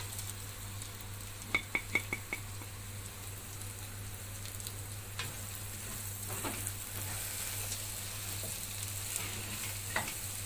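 Onions fry with spices in a pan for an oxtail tagine: a soft, steady sizzle close by, broken by a quick run of scraping stirring taps early on and a few more later, without talking.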